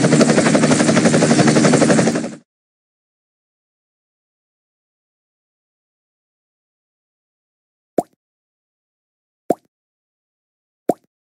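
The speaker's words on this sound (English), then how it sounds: "Helicopter." A helicopter sound effect from a jigsaw puzzle game: rapid rotor chop thumps loudly for about two seconds, then stops, followed by silence and three sharp isolated clicks.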